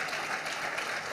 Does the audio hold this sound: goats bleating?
no